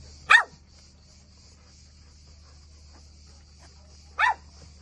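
A golden retriever gives two single sharp barks, close and loud, spaced several seconds apart with quiet in between.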